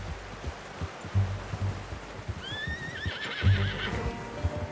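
A horse whinnies in Red Dead Redemption 2, a rising, wavering neigh standing out over a steady background of hooves clip-clopping and low ambient rumble, with a second shorter snort toward the end.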